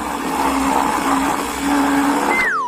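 A blender whirs steadily, churning ice cream and pungent cheese into a thick mix, its motor drone continuous and close, ending with a brief rising whistle as it cuts off.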